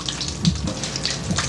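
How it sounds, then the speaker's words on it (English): Water drips and splashes in an old underground mine level of the North Main mine, scattered irregular drops and spatters echoing close by over a low running background, with no voices. "The reason there's so much splashing and water that we are currently seeing and experiencing is because we are in one of the oldest levels of our North Main mine"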